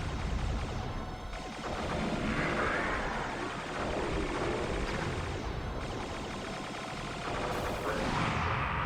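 Rapid blaster fire aimed at the boss Andross in Star Fox, a continuous dense barrage of loud shots over engine roar, with brief dips in intensity.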